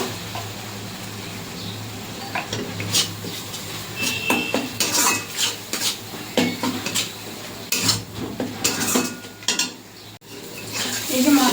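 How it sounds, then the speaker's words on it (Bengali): A spatula scrapes and clatters in a pan as a spice paste is stirred and fried for a fish and potato curry, giving irregular metallic knocks and scrapes over a faint sizzle. "ভালো করে মশলাটা কষিয়ে নেব"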